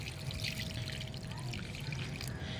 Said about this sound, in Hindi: तो इसी केले के छिलके के जो पानी है आप इसको अपने पौधों में डाल दीजिए।